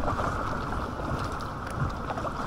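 An inflatable Aquaglide Chelan kayak is paddled against the current on the River Aire, giving a constant rush of moving water and wind buffeting close to the microphone, with no voices.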